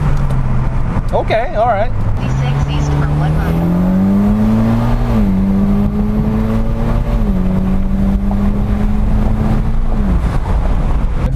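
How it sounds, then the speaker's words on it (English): Mitsubishi Lancer Evolution X MR accelerating hard in first gear, its engine note climbing steadily and loud from inside the cabin, with a brief voice near the start. "So now I'm gonna see how it accelerates. First gear."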